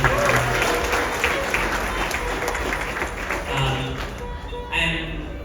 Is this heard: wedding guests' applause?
yes